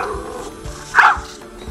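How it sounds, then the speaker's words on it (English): A short, high puppy yip or whine from a robot puppy's built-in speaker, played once near the middle over a soft background hum. "A built-in speaker allows communication with authentic puppy sounds."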